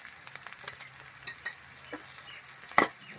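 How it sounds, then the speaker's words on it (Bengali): Chopped bitter gourd stirs into hot spiced oil, a soft, quiet sizzle broken by scattered spatula scrapes and one sharper clack near the end. "মশলার মধ্যে উচ্ছে কুচিগুলো দিয়ে দিলাম"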